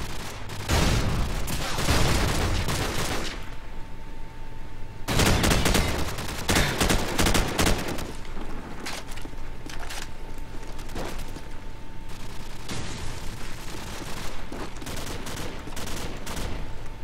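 Sustained suppressive gunfire in Call of Duty 4, with long loud automatic bursts interrupted by short gaps, and scattered single shots over a steady background hum.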